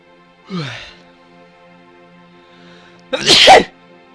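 A single loud, sharp sneeze stands alone near the end, preceded earlier by a softer breathy sigh, with quiet background otherwise.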